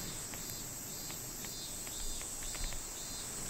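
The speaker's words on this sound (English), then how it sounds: "Got some crickets. Some really loud crickets" Loud, dense cricket chirping in the Disaster Report video game, a continuous high shrill trill with faint scattered ticks beneath, steady and close throughout with no talking.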